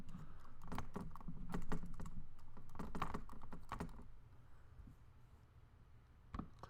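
Bursts of quick typing on a computer keyboard, close and crisp, as an email address is entered, followed by a quieter pause and a final key press.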